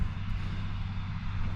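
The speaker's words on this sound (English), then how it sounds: "the tractor's still going up and down the fields in the background there" A tractor works the fields on a warm day, producing a continuous low engine drone that stays faint and distant with no other sounds in front of it.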